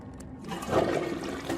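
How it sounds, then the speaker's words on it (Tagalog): Water poured or flushed in a toilet cubicle, a short rushing swell that builds after a quiet start and continues as a steady watery roar, close by and fairly loud, with no talking. "nakarinig ako ng nagbuhos ng tubig"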